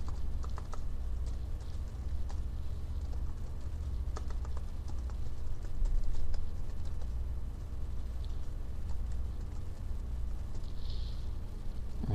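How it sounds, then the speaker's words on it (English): Someone types a short message on a computer keyboard while using Outlook Web App, a steady run of quiet, close key clicks in irregular bursts over a low background hum, with no talking. "Actually, I'll type something in here."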